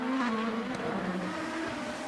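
IndyCar race cars scream around the Long Beach Grand Prix street circuit in the 2018 final laps on black tires, high-revving engine tones wavering and shifting as the cars pass, fairly distant and continuous.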